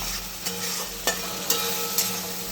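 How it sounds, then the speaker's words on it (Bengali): Sesame and mustard paste masala being sautéed in a pan, a steady close sizzle with a few sharp scraping stirs at regular intervals, no voices. "তিল আর সর্ষে বাটা দিয়ে ভালো করে এটা কষাবো"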